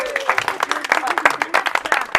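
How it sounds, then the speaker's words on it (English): An audience claps steadily for a couple of seconds, a dense patter of many hands close by, with faint voices mixed in. "Let's have a clap for Rich"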